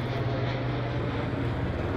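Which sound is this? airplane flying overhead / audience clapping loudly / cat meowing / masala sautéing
airplane flying overhead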